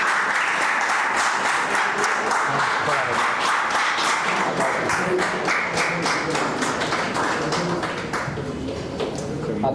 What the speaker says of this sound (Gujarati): એકવાર ફરીથી તાળીઓથી વધાવો.